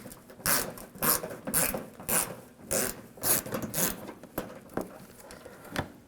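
A 7mm socket wrench ratchets out a screw from the inner fender well of a 2007-2013 BMW 328i, making repeated rasping clicking bursts about every half second, close and clear, with no one talking.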